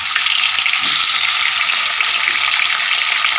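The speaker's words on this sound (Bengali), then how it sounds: "এদিকে মাছ ভাজা বসিয়ে দিয়েছি কিছুটা হয়ে গেছে" Fish frying in oil in a home Bengali kitchen, giving a steady, loud, close hiss of sizzling with faint scraping under it, continuous and without voices.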